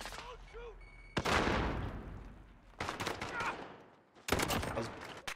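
Gunshots in a Modern Warfare match: three loud bursts of rapid fire with quieter stretches between them, while a voice speaks faintly underneath.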